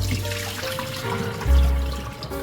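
Tap water runs and splashes while cow foot meat is rinsed in a sink for a Caribbean brown stew, a steady close trickle that swells louder partway through.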